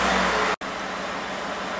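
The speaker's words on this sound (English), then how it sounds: "at this point, you wanna go ahead and start the truck. I like to let it run for a good 2 to 3 minutes" Pickup truck engine idling after an oil change, a steady loud rumble with a brief cutout partway through, then the even running continues alone.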